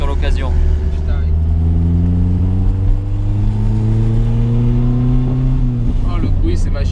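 Renault Alpine Berlinette A110 1600 SX engine roaring loud and close, its pitch climbing steadily as it revs through gears, with people talking over it.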